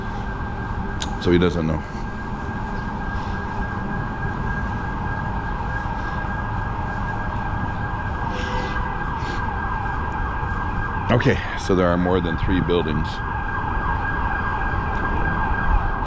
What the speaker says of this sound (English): Sirens are blaring in the back.